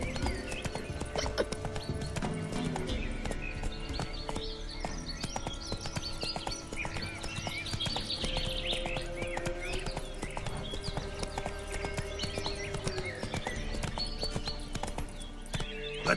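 Steady clip-clopping of horse hooves from The Witcher 3, a continuous trotting rhythm that stays close and fairly loud throughout, layered over a busy game soundscape with background ambience and faint bird calls.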